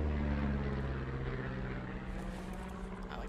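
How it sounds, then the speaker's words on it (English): Airplane passes overhead in the Firewatch game, a low droning propeller hum that is loudest at the start and slowly fades, with faint rustling. "You see that plane?"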